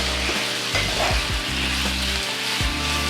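Teriyaki chicken sizzles loudly in a frying pan while being stirred, a dense close frying hiss with scraping pushes of the utensil through the pieces; no talking.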